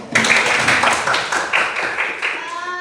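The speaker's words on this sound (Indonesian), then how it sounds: "Tepuk tangan." A classroom of students clapping hands together at the close of a lesson, fairly loud and near, in uneven bursts of rhythmic claps lasting a few seconds, with a voice faintly audible toward the end.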